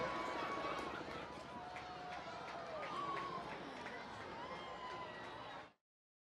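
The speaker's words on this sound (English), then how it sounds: "You can hear the crowd erupting at various moments when the eclipse has been seen" A large outdoor crowd in Niagara erupting during a total solar eclipse, a dense roar of cheering and chatter that stays loud throughout before cutting off abruptly.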